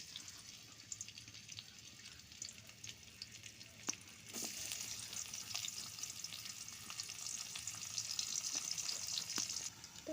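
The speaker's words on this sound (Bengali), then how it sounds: "তো ভালোভাবে পেঁয়াজগুলো ভেজে নিলাম" Onions and green chillies fry in a pan for a pangas fish and ripe tomato dish. A faint background hiss and scattered clicks give way partway through to a steadier, fuller sizzle that swells slightly, with occasional ticks of stirring.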